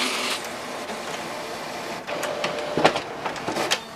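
An Epson WorkForce WF-7820 wide-format inkjet printer runs steadily, its mechanism whirring as paper feeds out into an automatically extending lower tray, with a few sharper clicks and thumps toward the end.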